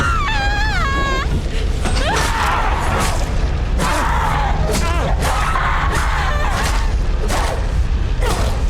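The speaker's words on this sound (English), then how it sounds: "Those screams are agonizing" Agonized screaming in a tense scene from The Last of Us TV series, loud yells and wails repeating in bursts over a noisy, chaotic backdrop of impacts and commotion.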